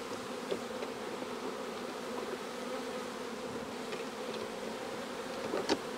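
Honeybees from a swarm being settled into a hive with its queen hum in a dense, continuous drone, close and steady, with no voices over it.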